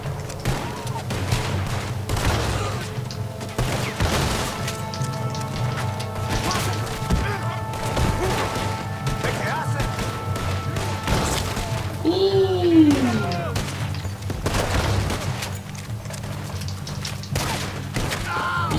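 Gunfire in the Red Dead Redemption 2 video game, scattered heavy shots and thuds over a steady game soundscape with tonal music or ambience, moderately loud and continuous, with someone talking now and then.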